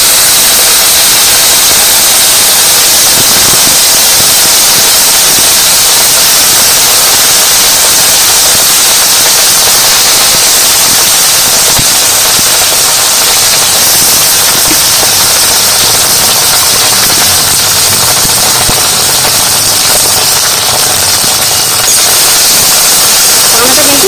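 Water hyacinth frying vigorously in a wok, giving a loud, steady hiss and crackle that holds throughout with little change in level.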